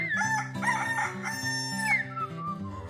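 A rooster crows in repeated rising calls over farmyard clucking at a county fair, fairly near and moderately loud.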